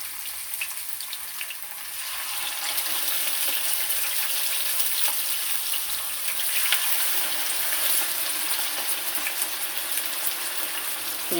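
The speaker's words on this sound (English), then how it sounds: "when frying your chicken," Chicken frying in hot oil in a non-stick pot, giving a steady, dense hiss and crackle that continues evenly throughout at moderate loudness, with no talking.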